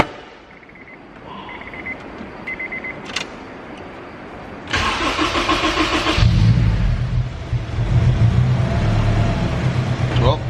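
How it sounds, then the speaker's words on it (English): A Honda S2000 turbo car engine cranks and fires up, settling into a loud, steady idle with some revving, after a few quieter mechanical clicks and whirs. "Let's see how the car starts up."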